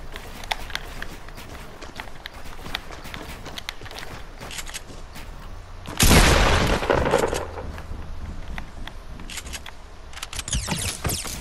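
Gunshots in Fortnite Battle Royale: a burst of loud nearby gunfire in the middle, with scattered sharper shots and running footsteps around it, and a voice talking faintly at times.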